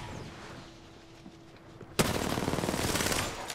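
Automatic gunfire erupts in the Apex Legends battle royale game: after a quieter stretch of background ambience, a dense, loud burst of rapid shots starts abruptly and rattles on continuously to the end.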